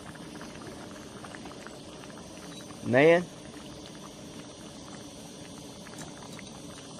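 Water boils and steams in a small cast iron pan, giving a steady low bubbling hiss throughout, briefly interrupted by a short male exclamation midway.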